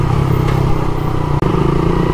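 A Yamaha Aerox 155 scooter with over 50,000 km on the odometer idles steadily up close, a loud, even engine drone with a faint clatter and one brief dip, no talking.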